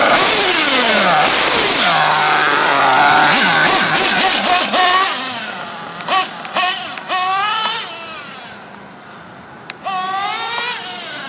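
A Pico P3 moped engine is revved hard during break-in, a loud, close two-stroke buzz rising and falling. It then drops to a lower running note broken by short blips of throttle.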